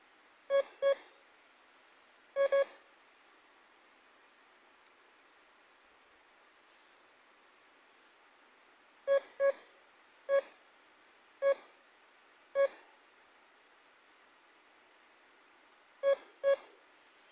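DCH 85 metal detector emitting short electronic beeps, mostly in quick pairs, scattered with long quiet gaps, close and clear over faint background hiss.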